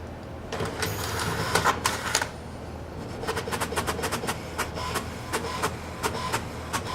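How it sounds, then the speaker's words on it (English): An in-cab truck printer runs steadily with a low hum, punctuated by rapid clicking and ticking bursts of the print head, fairly close and moderately loud. "we'll wait for the printer to print here."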